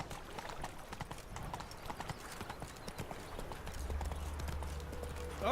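A horse's hooves clip-clop at a steady walking pace in The Witcher 3 video game, faint and even, with a low rumble swelling toward the end.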